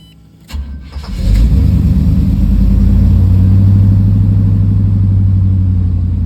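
A car engine fitted with a newly installed ACES Killshot EFI system cranks briefly, catches with a loud burst and settles into a strong, steady idle rumble close by.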